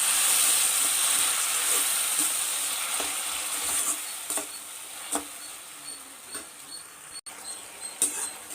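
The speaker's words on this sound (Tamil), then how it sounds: "மூணு தக்காளி பொடிசாக கட் பண்ணி தக்காளி போட்டு வதக்கலாங்க" Chopped onions and tomatoes sauté in a pan with a steady hissing sizzle that gradually softens, broken by scattered scraping stirs.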